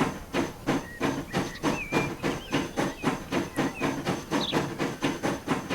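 A train pulls away in Transport Fever 2, with a steady, rhythmic hissing chuff pulsing about twice per second alongside clanking rail noise, loud and close, no talking.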